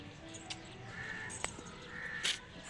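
Several crow caws ring out at intervals, a couple sharper and louder, over a quiet outdoor background.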